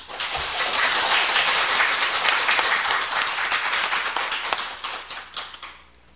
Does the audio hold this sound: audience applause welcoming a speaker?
yes